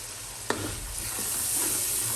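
Masala for mutton karahi sizzling and being stirred in a pan over a lowered flame, with a single sharp spoon scrape early on over a steady, close frying hiss.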